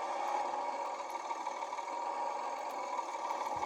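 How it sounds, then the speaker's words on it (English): A tractor engine in Farming Simulator 22, set in the 1970s, hums at a steady, even idle with a faint mechanical drone and no talking. "I haven't tried it with this tractor yet."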